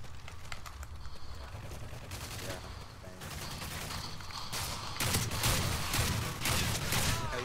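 Rapid gunfire from a first-person shooter game crackles in repeated bursts, steady and fairly loud, with sniper-style shots mixed into dense, continuous firing.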